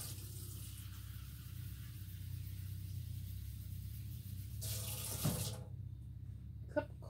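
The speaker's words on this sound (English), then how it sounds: "cup of cold water" Cold water runs from a kitchen tap to fill a cup, a steady close rush of flow that ends near the last couple of seconds, followed by a small clink.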